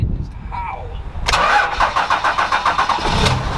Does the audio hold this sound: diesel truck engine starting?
yes